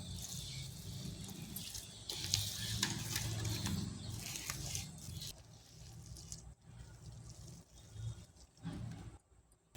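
Tempering for ginger pickle: cumin, mustard seeds and dried chillies sizzling in hot oil, a steady crackling hiss with scattered pops that eases in the final seconds, faint and close.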